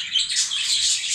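Pet birds kept for breeding, with eggs and chicks, chirp constantly in a loud, close, continuous chorus of high overlapping tweets with no pauses.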